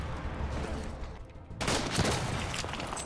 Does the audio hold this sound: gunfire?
yes